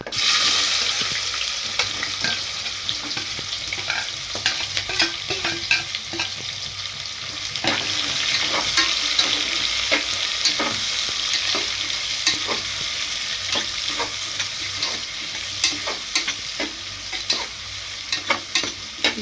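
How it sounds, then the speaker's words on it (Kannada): Chopped onions frying with masala in a pan for pulao, a loud continuous sizzle broken by repeated spatula stirs and scrapes against the pan, with no talking. "ಈಗ ನಾವು ಉಳ್ಳಾಗಡ್ಡಿ ಏನು ಕಟ್ ಮಾಡಿ ಇಟ್ಕೊಂಡ್ವಲ್ರಿ ಅವನು ಹಾಕೊಂಬಿಡನ್ರಿ"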